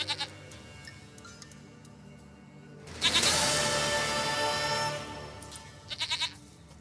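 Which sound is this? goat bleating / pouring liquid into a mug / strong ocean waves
goat bleating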